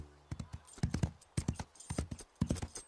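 Horse hooves clip-clop in a quick, steady rhythm of sharp, close knocks at a trot, from an animated series about a horse stable, with no talk over them.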